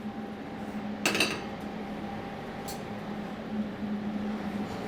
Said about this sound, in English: We're going to stick this on the stove.